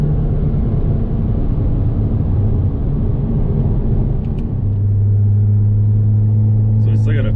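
Custom Porsche Cayman with a catless race exhaust accelerating hard, a loud continuous low engine roar that settles into a steady drone near the end.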